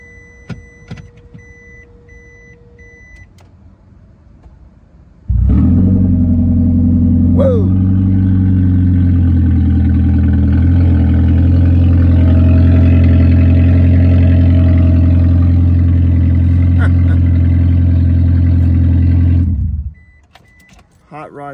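A Toyota Prius engine with its catalytic converter missing starts abruptly after a quiet stretch, then runs loud and rumbling with a deep, steady exhaust drone for about fifteen seconds before shutting off.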